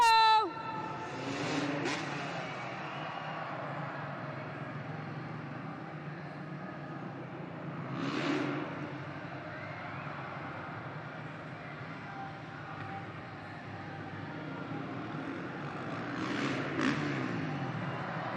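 Monster trucks on a warm-up lap at a Monster Jam arena event in Belmont Park, NY, a continuous distant engine roar with periodic louder revving surges, echoing through the venue under an announcer's voice.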